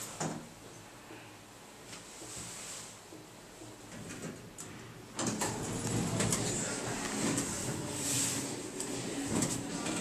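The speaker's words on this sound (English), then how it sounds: "Door close works. Single slide door." A Schindler elevator's single sliding door rolls shut with a rising mechanical rumble midway, followed by continued whirring and hum nearby.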